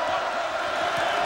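A UMass basketball crowd roars at the Mullins Center during the first game there: a steady, loud wall of cheering and shouting throughout, with a commentator's voice over it.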